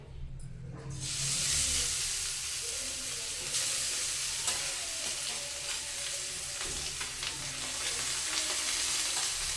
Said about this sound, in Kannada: ಇವಾಗ ಇದೇ ತುಪ್ಪಕ್ಕೆ ನಾನು ಕ್ಯಾರೆಟ್ ಹಾಕ್ಕೊತಾ ಇದ್ದೀನಿ.